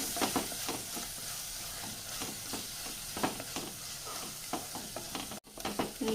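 Tomatoes and onions sautéing in a pan for a green peas curry give a steady close sizzle with repeated scraping stir strokes throughout, briefly cut by a sharp break near the end.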